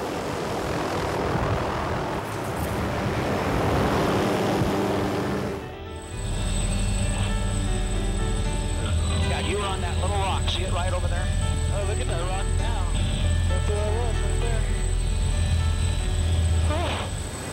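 A rescue helicopter flies close by, its engine and rotor drone steady and loud with a continuous hum and whine that holds throughout, following a brief burst of broadband noise at the start.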